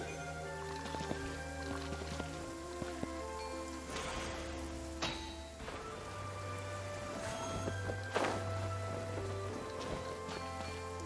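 Steady rain falling in the Genshin Impact game world, a soft continuous patter of drops with faint drips, heard beneath a low sustained music bed and occasional game effects.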